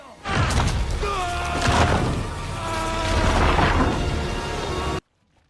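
A swarm of bees buzzes in an Amazon jungle film scene, a dense, loud whining drone with wavering tones that holds for several seconds before cutting off abruptly, mixed with low rumbling.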